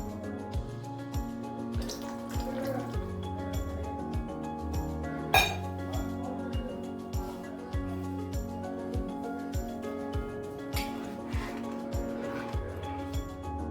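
Metal utensils clink against a pot of ada pradhaman, a sweet Kerala dessert, as the first coconut milk goes in. Close, steady taps and knocks repeat through the whole stretch, with one sharper ring in the middle.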